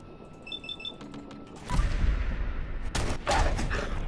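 Gunfire in Fallout 4: after faint electronic beeps, a burst of loud, close shots and sharp cracks follows, with rumbling impacts continuing to the end.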